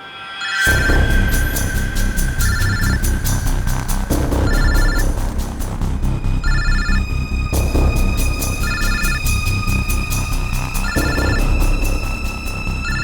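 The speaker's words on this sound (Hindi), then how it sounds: "सर इस पूजा के बैग से फोन बज रहा है।" A mobile phone rings from inside a bag, a loud electronic ringtone repeating its chiming melody in steady cycles for the whole stretch, with no talk over it.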